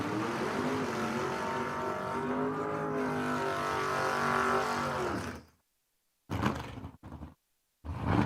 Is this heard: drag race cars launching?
yes